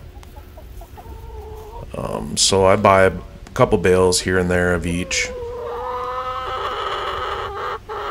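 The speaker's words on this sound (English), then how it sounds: "Now all these chickens get along really well." Chickens in a city backyard coop cluck and squawk loudly in bursts close to the microphone, with softer clucking before and after and someone talking over part of it.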